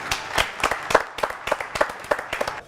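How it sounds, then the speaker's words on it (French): Studio audience clapping on a French TV talk show, a fairly sparse patter of individual claps from a small crowd, close and moderately loud throughout. "Applaudissements."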